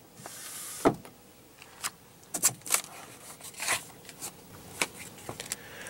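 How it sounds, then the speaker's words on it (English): Power sunroof motor on a 2015 Ram 1500 whirring inside the cab, a series of short mechanical bursts and clicks over a quiet background with no talk. "And then you have your sunroof with your sunroof controls."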